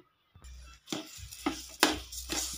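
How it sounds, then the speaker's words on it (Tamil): Rava kesari with colour powder stirred in a pan, a few distinct scraping strokes in a steady rhythm over a low sizzle, close and fairly loud, with no talking. "இப்போ நல்லா கிண்டி விட்டுக்கலாம்."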